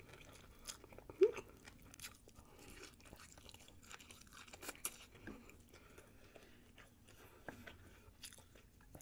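Someone close to the mic slowly bites and chews caterpillar and spider sushi rolls, with soft wet mastication and occasional crunchy bites over a quiet background; no talking.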